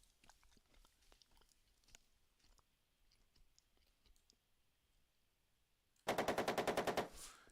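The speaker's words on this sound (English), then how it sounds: "And the other turret machine gun also maintain rate of fire." A turret machine gun in the tank game Armoured Commander II rattles off a single loud rapid burst of about ten rounds near the end, after a stretch of faint clicking and quiet background.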